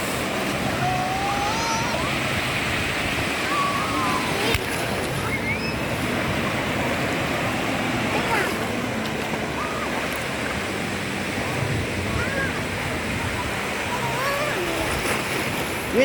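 Continuous roar of West Philippine Sea waves and surf, steady and broad, with faint bird-like chirps or squeaks now and then.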